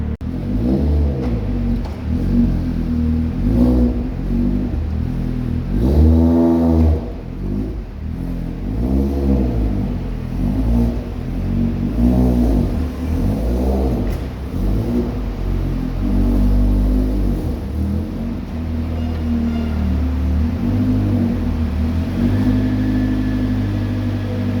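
Opel Astra H VXR fitted with an EFR turbo conversion revs up repeatedly on a dyno, loud and close, the engine surging and dropping in a steady series of bursts over a constant low drone, with no talk.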